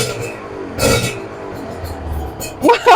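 A two-stroke Kawasaki Ninja 150 RR motorcycle engine gives short, sharp revving blips, one near the start and a louder pair at the end, over a low idle, with people talking nearby.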